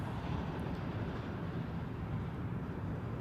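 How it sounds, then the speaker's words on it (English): A Japan Airlines airliner arriving on runway 8 left at Honolulu, heard as a steady, loud, deep rumbling roar that holds without a break throughout. "This next arrival on 8 left is the Japanese airline, Japan Airlines."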